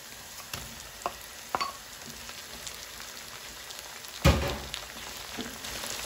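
Tomato fries in a pan with a soft, continuous sizzle, punctuated by a few scraping stirs and one louder clatter of the utensil against the pan.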